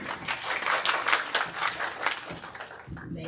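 Indoor audience at a keynote address clapping continuously, a dense patter of many hands that swells and fades slightly before a voice begins near the end.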